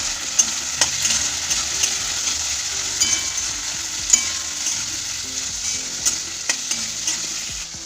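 Onions and tomato fry in a pan with a bright, steady sizzle close by, broken by repeated stirring scrapes and clinks of a spatula against the metal, with no talking.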